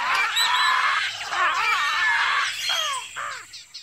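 Shrill, raspy parrot screeches overlap loudly and continuously, harsh squawks rising and falling close by.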